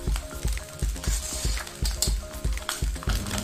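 Egg fried rice being stirred and tossed in a wok, with rhythmic scraping and clattering strokes about every third of a second over a soft sizzle, close and steady.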